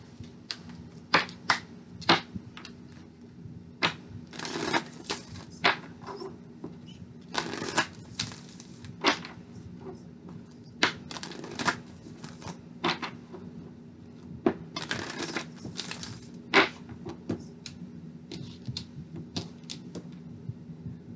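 Tarot cards for a love reading are shuffled in repeated bursts of crisp riffling and soft slaps, spaced irregularly over a quiet room hum with no talking.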